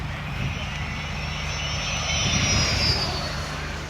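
Motor of a 7-meter half-scale giant RC glider pulling through aerobatic manoeuvres at an RC model air display, a steady droning whine with a gliding pitch sweep as it passes, moderately loud and continuous.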